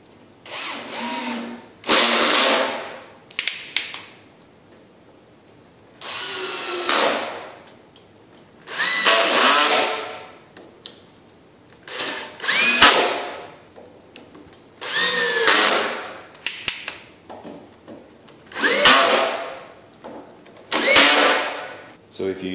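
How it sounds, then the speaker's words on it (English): A power drill bores into a bifold door during a bottom pivot repair, running in about ten loud, whining bursts of a second or two each with short pauses between them, close up. "The drill might be a little loud."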